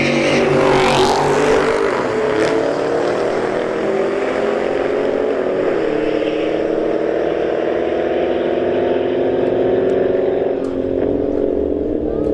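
Audi and Dodge Charger Scat Pack cars roaring down a drag strip side by side, a loud sustained engine drone with a brief sweep of passing noise throughout.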